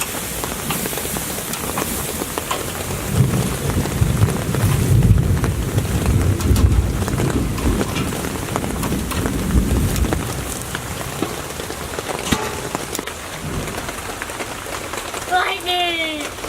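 Steady rain pours down during a thunderstorm at a backyard barbecue, with a low thunder roll and wind buffeting near the microphone; someone talks over it briefly.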